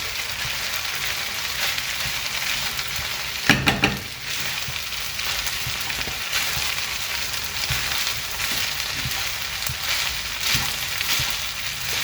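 Egg fried rice sizzles and fries in a hot pan, a steady dense crackle with a few louder scraping stirs, close and continuous with no talking.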